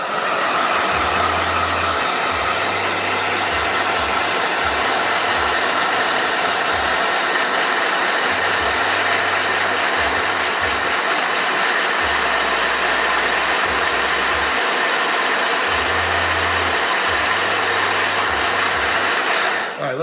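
A blow dryer runs continuously at a loud, steady roar throughout, close to the microphone, while a low intermittent hum starts and stops in the background.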